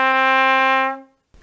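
A single low D is played on a trumpet with the first and third valves pressed, a clear, bright sustained tone held for about a second before it fades to silence.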